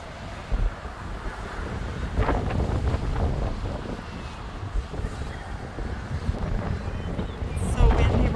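Strong, gusting wind buffets the microphone at the ocean shore during a bomb cyclone, a steady roar with surging waves and surf underneath, loud and continuous throughout.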